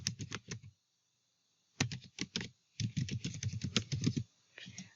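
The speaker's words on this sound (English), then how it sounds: "So here you need to type in the email address or the member ID. Type in your account details." A computer keyboard is typed on in fast clattering runs while account login details are entered, with close, crisp keystrokes broken by short pauses and no speech over them.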